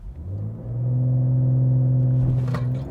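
A 2022 BMW M240i launching from standstill and accelerating hard toward 100 km/h, its engine note climbing into a loud sustained roar, with a brief shift-like break near the end, heard close from inside the car.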